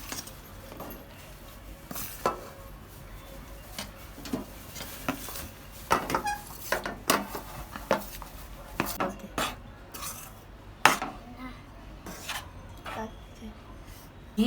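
Gram flour roasting in ghee in a pan, a ladle scraping and clinking against the metal in irregular strokes that grow busier midway, close by, with a voice talking over parts of it.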